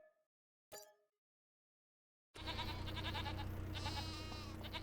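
Goats on a farm in the Farming Simulator 25 video game, bleating loudly and continuously in an overlapping chorus after a couple of short isolated sounds and a pause.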